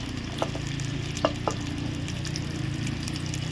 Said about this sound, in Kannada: ಇವೆಲ್ಲ ದಿನಸಿ ಈಗ ಎಣ್ಣೆ ಒಳಗ ಚಲೋ ತಂಗ ತಾಳಸ್ಬೇಕ್ರಿ